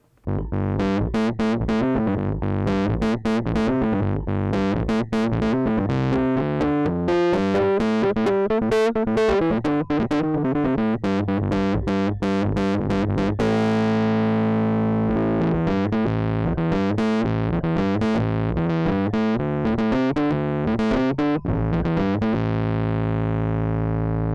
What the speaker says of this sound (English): just have just the drive, you can get some distortion out of this.